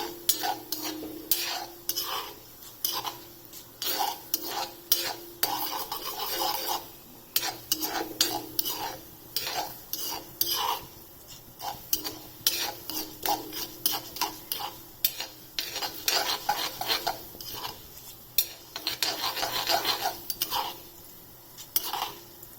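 Urad dal roasts in oil in a pan while a spoon stirs it constantly, giving repeated scraping and clattering strokes over a faint sizzle, close and busy throughout.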